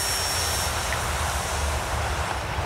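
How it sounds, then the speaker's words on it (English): E-flite Turbo Timber Evolution electric RC plane at full power on a 3S battery, a steady high-pitched motor and propeller whine, continuous and moderately loud outdoors. "So let's throttle up. Here we go. Full power on 3S."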